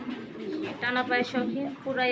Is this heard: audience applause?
no